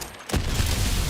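A bomb blows up in the shooter game Borderlands 4, a sudden loud boom after a brief lull that swells into a dense, sustained roar of blast noise filling the rest of the moment.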